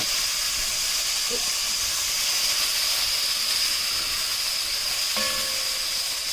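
Minced garlic cooking in a hot pan, a constant close hiss and sizzle of steam with a faint clink partway through, no talking.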